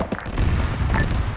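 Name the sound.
autocannon fire in the video game Arma 3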